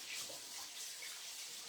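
A kitchen tap runs steadily into a sink as hands get a quick rinse, a soft, even hiss of water that stays fairly faint and brief.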